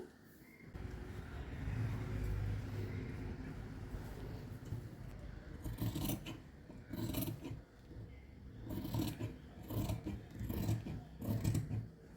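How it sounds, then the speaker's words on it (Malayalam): Scissors cut straight through blouse fabric for a boat-neck princess-cut blouse, a soft continuous rasping snip that turns into choppier bursts later, close and fairly quiet with no talking. "ഇങ്ങനെ ഒന്ന് സ്ട്രെയിറ്റ് ആയിട്ട് കട്ട് ചെയ്ത് കൊടുക്കാം."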